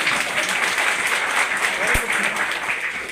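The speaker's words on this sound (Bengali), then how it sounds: "জোরে হাততালি হোক স্যারের।" An audience at a health product training session breaks into steady, dense applause that holds throughout, fairly loud and close, with a brief thump partway through.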